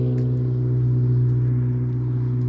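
A small car's loud aftermarket exhaust with a tiny four-cylinder engine gives a steady, close, low droning hum that holds evenly throughout, with no clear rise or fade of a pass-by.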